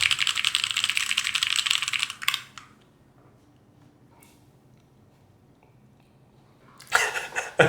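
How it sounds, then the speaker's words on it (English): Close, brisk typing on a computer keyboard fills the first two seconds, then stops to near silence before a short burst of keys returns at the end. "How does my typing sound?"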